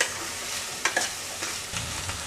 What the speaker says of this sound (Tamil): இப்போ நல்லா காய்கறி நல்லா வதங்கணும்.